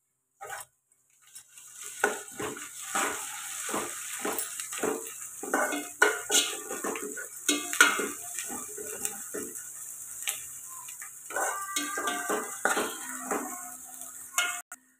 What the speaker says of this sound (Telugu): అల్లం వెల్లుల్లి పేస్ట్ అయితే వేసుకుందాం. పచ్చివాసన పోయేదాకా ఫ్రై చేసుకుందాం.